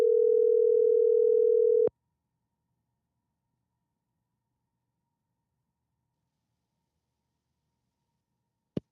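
Telephone tone while placing a call, a single loud steady mid-pitched beep lasting about two seconds that cuts off abruptly, followed by long silence and a brief click at the end.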